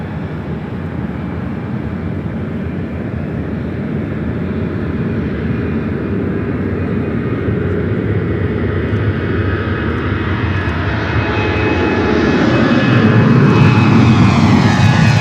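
A plane taking off from a runway at LAX, its aircraft engines roaring steadily and building in loudness toward the end, heard alone without talk.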